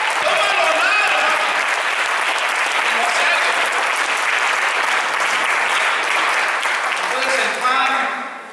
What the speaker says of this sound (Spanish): ¿Cuánto dar un aplauso al Señor?